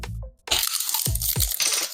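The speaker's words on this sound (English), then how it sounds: "Look at that crunch." A crunchy taco shell cracks sharply under a bite at a taco dinner, with two or three loud, close crunches in quick succession and no talking.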